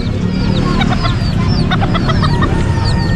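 Hens cluck in repeated short calls over a steady low rumble of background noise, with several birds calling close by at a pet market in Bocaue, Bulacan.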